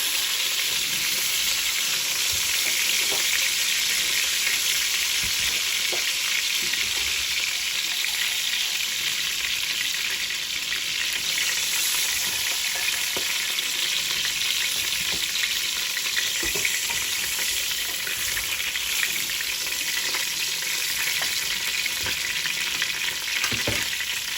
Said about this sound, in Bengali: এই পিসগুলো আমার ভাজা হয়ে গেছে, এগুলো আমি উঠায় ফেলবো